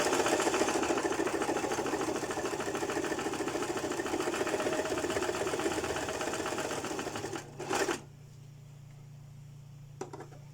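A sewing machine stitches a bra with a French-cut design, running loud and steady with a fast mechanical whir for about seven seconds before it winds down and stops, leaving a low hum and one faint click.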